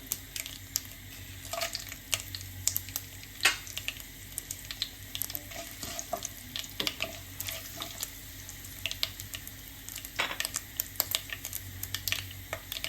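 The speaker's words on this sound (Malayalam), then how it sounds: "എണ്ണ ചൂടായിട്ട് കടുക് ഇടാം. വറ്റൽമുളക് ഇടാം." Mustard seeds and dried red chillies frying in hot coconut oil, a close, continuous crackling sizzle dotted with irregular sharp pops and ticks, with no talking.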